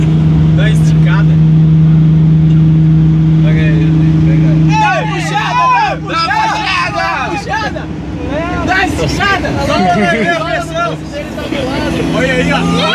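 A six-cylinder Chevrolet Caravan fitted with a blower idles roughly, then revs hard several times in rising and falling bursts. It is loud and close, with excited voices talking over it.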